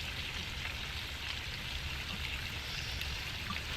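Fish sizzles in a skillet during a clean-cook on a boat, with a steady, even crackle of frying oil that stays close and constant and has no talking over it.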